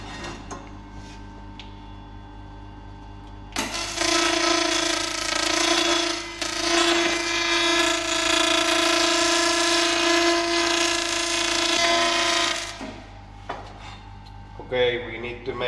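A power tool grinds thick paint off a fat bike frame in a workshop, running as a steady, loud, tonal whine for about nine seconds, with quieter handling noises before and after.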